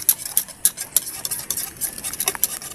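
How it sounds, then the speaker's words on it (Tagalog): A mixing utensil stirs food in a bowl while crispy takway is prepared at home, giving a quick run of bright clicking and scraping taps in an uneven rhythm, close and fairly light, with no talk. "mabilis na ang haluin"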